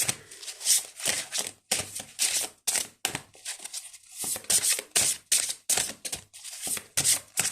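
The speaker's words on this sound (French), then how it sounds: "un peu trop de cartes qui tombent" Tarot-style reading cards spill and shuffle close by in a fast, uneven run of crisp papery flicks, slaps and rustles, with brief pauses between bursts.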